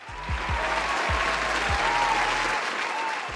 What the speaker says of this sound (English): And give him a round of applause.